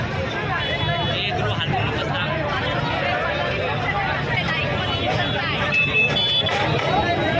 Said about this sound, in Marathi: गर्दी फुल टू फुल आहे.